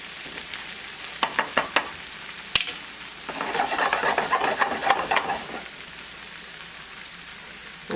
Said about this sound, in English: I'm going to put some butter on here and just let it melt down on the casserole